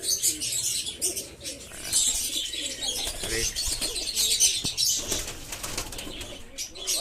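Domestic pigeons in a breeding loft, low cooing mixed with wing flaps and light chirps, steady and fairly close throughout.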